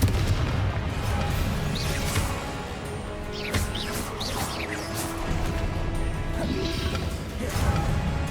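In Hogwarts Legacy, the Confringo fire spell is cast amid dense gameplay combat, with fiery blasts, crashes and mechanical clatter layered over a constant loud background soundtrack.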